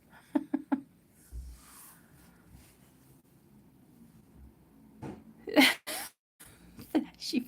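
A single sharp human sneeze rings out in a quiet room during a relaxed coloring session, followed by people talking.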